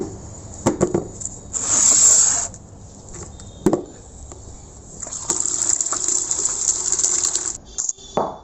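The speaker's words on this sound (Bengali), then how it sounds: "তো এটা হলো চাল ধোয়া জল সব আমি জমিয়ে রাখি তার মধ্যে একটু নর্মাল জল মিশিয়ে নিলাম" Saved rice-washing water mixed with plain water is poured out in a loud, gushing stream for a few seconds, then again in a longer steady pour, with a brief splash between and light clatter around it.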